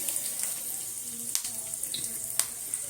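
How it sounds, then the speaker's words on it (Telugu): Tempering of spices with curry leaves for Andhra pappu charu crackles in hot oil, a soft sizzle with a few sharp pops, heard close and steady without talk. "తాలింపు సాంబార్లు పప్పు చారులకి తాలింపు వేస్తున్నానండి."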